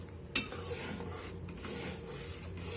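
A spoon stirs masoor lentil dal seasoned with salt and turmeric in a cooking pot, starting with one sharp clank against the metal, then soft continuous scraping and swishing, close up and without speech.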